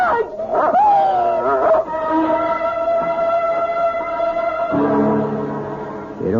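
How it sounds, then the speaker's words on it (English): A dog in a CBS Radio Mystery Theater drama howls and whimpers loudly and close, with long wavering wails and short yelps running throughout. "It's only a dog, for Pete's sake."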